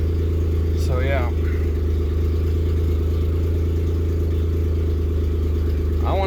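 A car engine holds a steady high idle, a constant loud low drone running throughout, with a couple of brief chirpy noises briefly breaking through.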